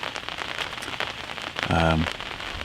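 Rain patters through timber in a small saddle near a food plot during a late-season deer hunt, a soft continuous drizzle with a brief low crackling burst partway through.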